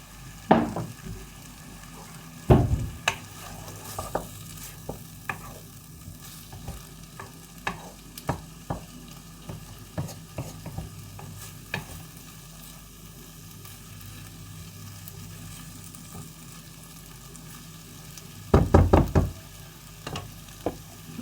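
Onions and mushrooms fry in a pan with a low steady sizzle, punctuated by scattered clicks and scrapes of stirring and a couple of louder clattering bursts near the start and end.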